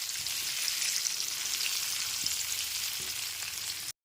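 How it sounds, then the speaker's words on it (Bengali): Steady hiss and crackle of potatoes frying in hot oil over a medium gas flame, continuous and fairly close, cutting off abruptly at the very end. "গ্যাসের ফ্লেমটা মিডিয়ামে রেখে আলুটা ভেজে নিতে হবে"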